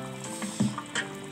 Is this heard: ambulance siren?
no